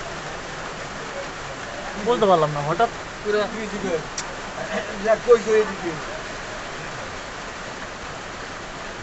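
Rain falls in a steady, even hiss before winter, with a storm on the way. It runs through the whole stretch, and someone speaks briefly over it near the middle.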